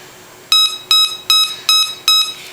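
A Nokta AU Gold metal detector gives five short, bright electronic beeps at an even pace as it is switched on, close and clear with no talking.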